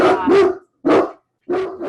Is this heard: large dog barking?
yes